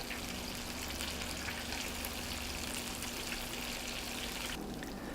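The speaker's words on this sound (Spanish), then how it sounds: "Tenemos ahora nuestro pescado frito. Lo vamos a dejar dorar un poco más de ambos lados" Oil sizzles and crackles steadily as fish deep-fries, with a constant hiss throughout, a dense frying sound with no voices.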